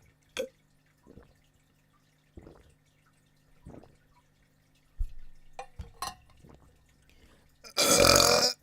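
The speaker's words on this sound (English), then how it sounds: "Let me drink some water." Someone drinks water at a desk, a few soft, separate gulps and mouth clicks spaced over several seconds, ending in a loud, breathy exhale close to the microphone.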